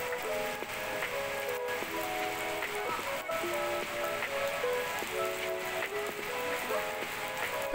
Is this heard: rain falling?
yes